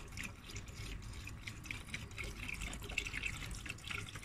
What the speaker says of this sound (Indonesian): Tinggal masukin coolant. Oke, nah masukin coolantnya.